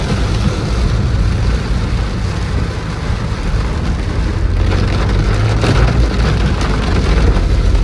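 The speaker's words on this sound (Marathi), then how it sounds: "एवढा पाऊस पडतोय की पुढचं काही दिसत नाहीये" Heavy monsoon rain pours in the Konkan region on the way toward the Malvan coast, a loud, steady, dense wash of rainfall that holds through the whole stretch with no voices.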